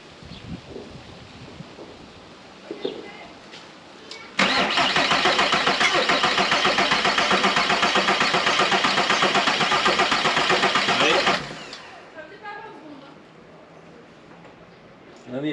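A van's diesel engine cranks steadily and loudly for about seven seconds, starter whirring without catching, then stops; outdoor background and people talking before and after.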